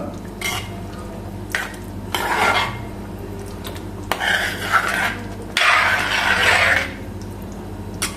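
A spoon stirs beef peralan, a Kerala beef curry, in a metal pot: several separate bursts of wet scraping and clinking against the pot, close and fairly loud, with quieter pauses between and no speech.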